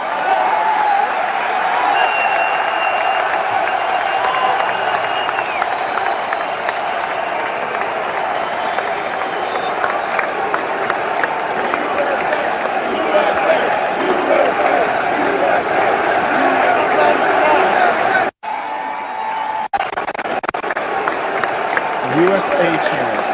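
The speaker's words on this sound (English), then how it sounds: "the crowd's chanting USA, USA" A large arena crowd at a UFC event roars and chants USA in a sustained loud rhythmic wall of voices, with a brief cut near the end before the chanting resumes.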